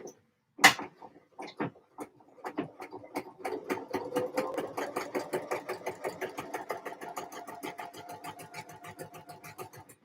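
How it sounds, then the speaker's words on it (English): A sewing machine hemming fabric: a few isolated clicks and thumps, then the machine starts and stitches steadily, a close, rhythmic mechanical chatter that gradually quickens and runs on without speech. "More machine hemming anyway"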